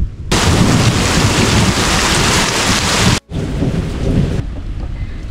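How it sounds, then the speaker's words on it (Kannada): Heavy rain pours down loud and steady on a dark, clouded hillside in Chikkamagaluru, with thunder rumbling through it; the downpour breaks off for an instant, then returns slightly lighter and thins toward the end. "ಈಗ ನೋಡಿ ಜೋರು ಮಳೆ ಬರುತ್ತೆ"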